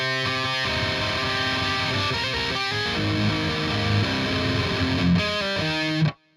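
The song continues on heavily distorted electric guitar, a loud sustained riff with moving melodic notes over chugging lows, played solo and cutting off sharply at the end.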